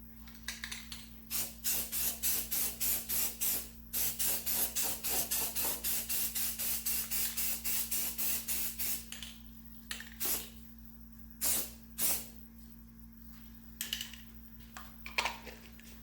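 Spray gun misting ghost gold paint over an apple red satin finish, heard as a rapid run of short, even, hissing bursts, followed by a few more spaced-out sprays and quiet pauses.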